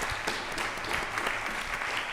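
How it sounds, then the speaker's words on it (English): A live audience at a jazz vespers church service claps in a dense, steady burst of applause, close and sustained for a couple of seconds with no talk over it. "Let's give him a big round of applause."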